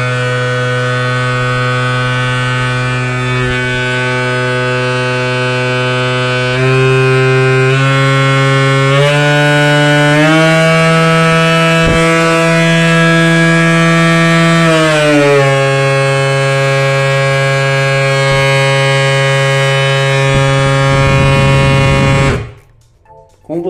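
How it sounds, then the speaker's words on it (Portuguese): DeWalt DCW210 random orbital sander running steadily and loud, its buzzing motor tone rising in steps as the speed goes up, then cutting off at the end. "É bem forte essa lixadeira."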